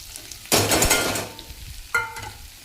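Onion with coarsely pounded ginger-garlic paste and spices (coriander powder, red chilli, turmeric, salt, house masala) hits a hot pan in a sudden loud sizzle, then a second burst with a spoon scrape as it roasts; no voices.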